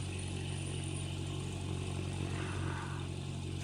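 A propeller aircraft engine throttling up in the flight game Aces of Thunder: a steady, loud droning roar with a rising, grinding mechanical buzz, continuous throughout.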